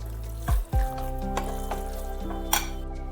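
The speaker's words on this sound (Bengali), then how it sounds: "এবার ভালো করে একটু মিশিয়ে নিতে হবে।" Vegetable pakora batter being mixed by hand in a bowl just after hot oil is poured in: a couple of sharp knocks and scrapes, then softer stirring and a faint sizzle, with no talking.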